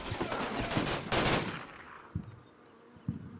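Gunfire crackles in Combat Mission: Fortress Italy, a WW2 battle in northern Sicily, as dense bursts of machine-gun and rifle fire thin out into scattered, distant single shots.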